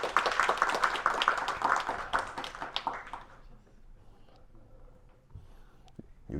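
An audience at an iOS developer meetup applauds app presenters with brisk, close clapping for about three seconds before it thins out into quiet room noise and a few scattered taps.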